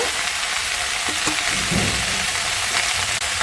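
Mixed vegetables for spinach chhechra fry in hot oil in a pan, making a loud, steady sizzle that runs throughout, with faint stirring knocks underneath and no voices.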